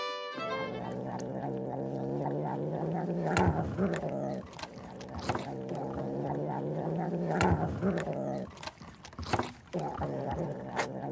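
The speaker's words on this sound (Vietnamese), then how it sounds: "đó là tiếng mèo kêu" A cat meows and yowls in long, drawn-out, strained calls, loud and close, with a few sharp breaks between cries and no other sounds around them.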